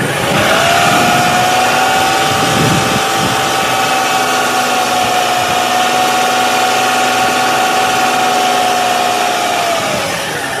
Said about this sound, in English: increase RPM to 2500 RPM and keep it for 5 seconds